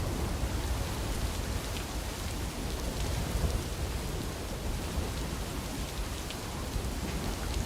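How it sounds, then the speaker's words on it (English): Steady, dense rainfall called timefall in the video game Death Stranding, a constant hiss of drops hitting surfaces that continues evenly throughout with no talk. "Instead of rainfall, it's timefall. I mean, it is rain"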